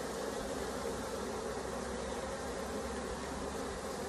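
A honeybee swarm gathered on a bin lid in the rain, buzzing in a steady dense drone that fills the whole stretch at close range with no break.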